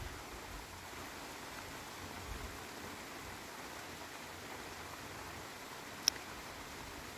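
A heavy summer rain downpour over a garden plot in Visaginas, Lithuania, heard as a faint, steady, even hiss with one brief click near the end.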